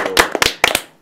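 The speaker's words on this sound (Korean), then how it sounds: "우리 한번 힘내자는 의미에서 박수 한번 치고" A few people clap together in a short burst of sharp, uneven hand claps at a Korean political talk show taping, close and fairly loud, with no talk over it.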